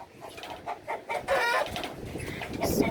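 Chickens cluck in short repeated calls close by, outdoors with wind noise, building into a louder squawking burst partway through.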